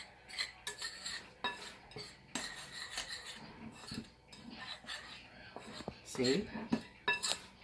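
A utensil stirs thick chocolate chip apple waffle batter in a bowl, soft repeated scraping and clinking strokes at close range, fairly quiet, with a brief spoken word partway through.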